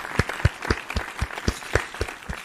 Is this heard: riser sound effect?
no